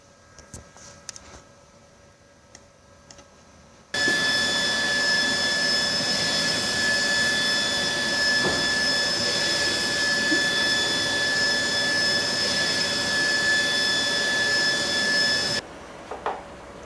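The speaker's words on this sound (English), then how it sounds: "one click on the print button and the file is printing" Mutoh ValueJet 426UF UV printer printing a varnish layer, a steady loud whine with sustained tones that starts abruptly, holds for about twelve seconds, then cuts off.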